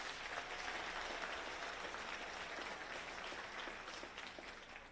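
A crowd at a virtual career academy closing celebration applauds two school leaders, a dense, even clapping from many people heard at moderate distance, tapering slightly toward the end.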